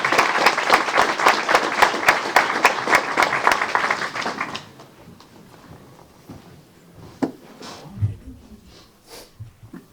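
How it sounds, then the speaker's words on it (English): A room of people at a Temple Terrace city council meeting gives a dense, lively round of clapping for about four seconds, then it cuts off into a quiet hall with faint shuffling and a few small knocks. "Let's give them a round of applause."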